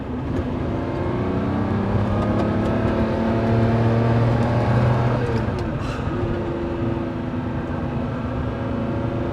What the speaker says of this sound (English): That engine sound alone, my friend. You don't need a radio.